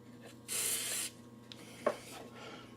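WD-40 lubricant sprays in one short hiss lasting about half a second in a quiet workshop, followed by a few faint clicks and handling noises.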